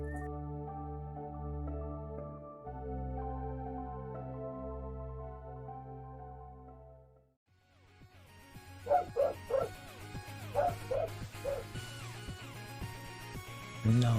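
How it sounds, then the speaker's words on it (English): Dogs barking and yipping in a burst of overlapping, irregular barks in the second half, preceded by a steady musical tone; fairly close and loud in short clusters. "I don't even know what they're barking at"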